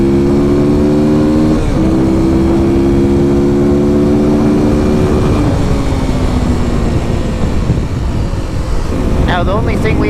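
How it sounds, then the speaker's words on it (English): Kawasaki KLX300 dual-sport motorcycle with its airbox lid removed, accelerating hard through several gears in a top speed test, loud droning engine with pitch climbing and dropping at each shift, wind rushing throughout. "get to a spot here where we can go ahead and test out the top speed on the KLX here"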